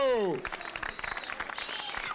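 A French-speaking audience applauds a singer-songwriter at a comedy show; a voice cuts off at the start, then dense, steady clapping continues close and loud to the end.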